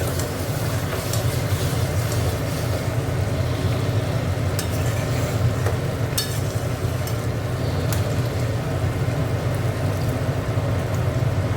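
Chicken masala fries in oil while being stirred, giving a steady, dense sizzle with a low rumbling bed and occasional sharper scrapes, close and continuous.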